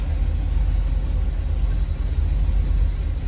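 A car engine idles steadily with a low, continuous rumble and no revving, holding an even level throughout.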